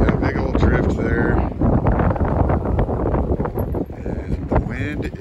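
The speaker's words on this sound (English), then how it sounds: "And the wind is still blowing, as I'm sure you can hear." Strong blizzard wind buffets the microphone with a constant roar around a farm where cows bed down on soybean straw, as someone talks over it.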